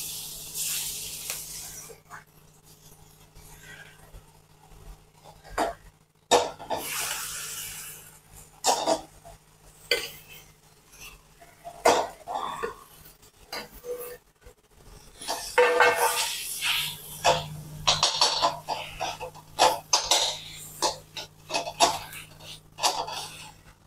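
Mashed sweet potato goes into hot ghee in a pan for a fasting-day shira, giving bursts of hissing sizzle and scraping stirs that come and go, louder toward the end.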